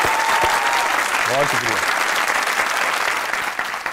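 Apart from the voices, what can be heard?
studio audience applause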